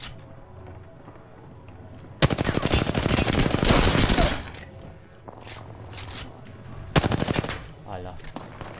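Loud bursts of automatic gunfire in the Apex Legends battle royale game, a sustained volley of several seconds followed by shorter rattling bursts, with faint game voice lines in the background.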